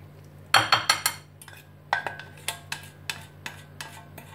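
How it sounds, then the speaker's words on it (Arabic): A spoon clinks and scrapes against a bowl while 120 g of butter is mixed into crushed biscuits, with a cluster of sharp knocks followed by steady rhythmic taps, and no voices. "عندي هنايا الزبده 120 غرام، نخلطها مزيان مع البسكوي"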